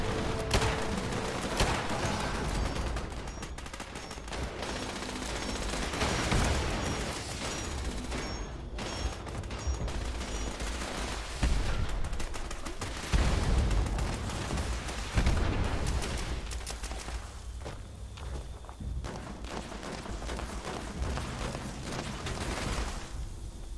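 Gunfire from a powerful weapon in the video game Fallout 76, repeated bursts of shots and booming impacts over a dense game soundscape, steady and moderately loud throughout, no talking.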